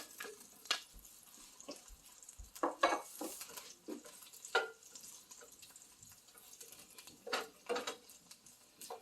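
Thick-sliced mushrooms sputter in melted butter in a pan: faint, intermittent bursts of sizzling mixed with soft stirring and scraping, close and quiet with gaps between each flurry.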